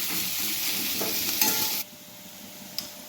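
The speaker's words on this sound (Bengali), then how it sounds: "পেঁয়াজটা আমার পুরো একদম গোল্ডেন ব্রাউন করে ভাজা হয়ে গেছে" Onions frying in oil for a mutton curry, a steady close sizzle with stirring scrapes, then cutting to a much quieter pan with one brief clink near the end.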